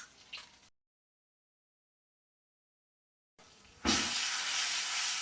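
Sudden loud hiss as curry leaves drop into hot oil for Gujarati kadhi, bursting after a short silence and holding as a steady, bright sizzle.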